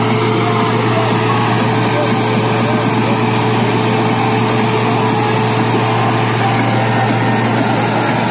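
A Farmtrac 6060 tractor runs a reaper in a village field, its engine giving a steady, continuous drone with a constant low hum and a busy mechanical whir that holds unchanged throughout.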